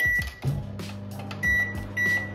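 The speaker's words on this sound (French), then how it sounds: "on touille un peu et on fout ça au micro-ondes" A microwave oven hums steadily while heating cheese sauce, with a low running drone and a few short electronic beeps sounding over it, close and fairly quiet, no voices.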